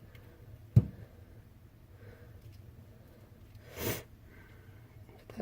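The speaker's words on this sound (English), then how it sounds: "Sorry, I got the sniffles." A person with a cold gives a single short, close sniffle in an otherwise quiet room, with a faint tick heard earlier.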